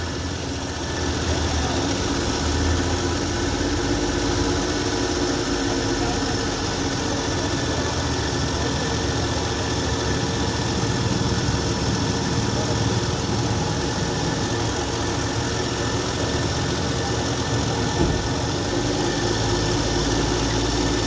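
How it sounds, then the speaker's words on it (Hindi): A Suzuki Mehran engine idles after ECM repair following a fuel injector circuit fault, giving a steady, even low rumble and hum that holds without change, close by, with no voices over it. "जैसे ही लगाऊंगा जो हमारा इंजन है ना ये वाइब्रेट करना छोड़ जाएगा"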